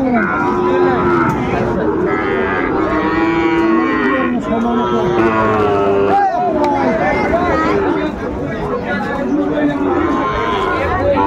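A Sahiwal bull calf at a cattle market in Madaripur moos repeatedly, its drawn-out calls close and loud over a constant babble of crowd chatter and people talking.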